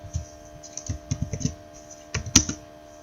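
Someone types CSS code on a computer keyboard in short, uneven bursts of crisp keystroke clicks, with brief pauses between clusters. The sound is close but quiet.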